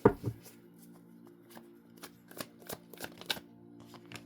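Tarot cards handled and shuffled during a reading, a soft sharp slap followed by scattered light ticks and flicks of card stock against a low steady hum.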